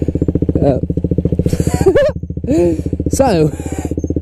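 A KTM motorcycle idles with a loud, steady, fast-pulsing engine throb right up close, while someone talks over it throughout.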